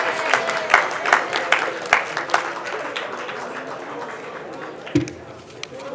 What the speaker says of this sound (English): So a thank you and a warm applause for the JCRC Board of Directors.